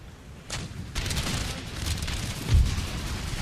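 Artillery fire during a battle in Empire: Total War, an Ottoman Empire campaign: dense, continuous rumbling booms and crackling volleys layered into a loud, steady battle din with a heavier thud near the end.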